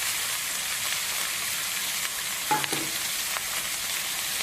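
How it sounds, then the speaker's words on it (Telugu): Ginger garlic paste and chopped mint leaves fry in a hot pan for paneer pulao. The sizzle is loud and continuous, with a few light stirring scrapes partway through. "అల్లం వెల్లుల్లి పేస్ట్ కొద్దిగా వేసి వేయిన తర్వాత కట్ చేసిన పుదీనా ఆకు వేస్తున్నానండి"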